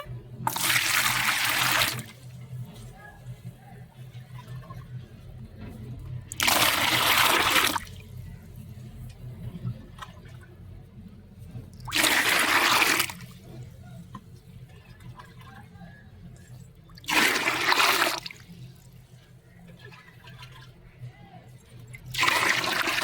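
Water poured out of a one-litre jug at the base of a rose plant, in four loud gushing bursts of about two seconds each, spaced by quieter gaps.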